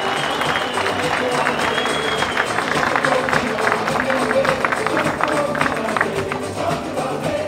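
An audience at an Icelandic stallion show breaks into steady applause for a horse, with dense clapping at moderate distance and faint crowd murmur underneath throughout.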